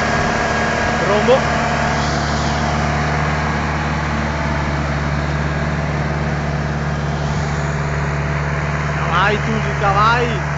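A John Deere 6620 tractor engine runs at a steady, loud drone during field tilling, holding an even note throughout with a few brief voice sounds near the end.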